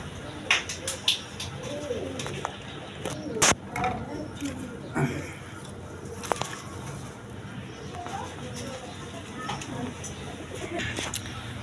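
Pigeons of mixed breeds coo at a busy wholesale pigeon market, soft throaty calls layered with sharp clatters, wing and cage noises, and people talking nearby.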